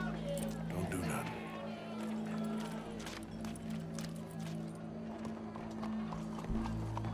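Horse hooves clip-clop at a steady trot over a low droning background in the video game Red Dead Redemption 2, with a voice talking now and then.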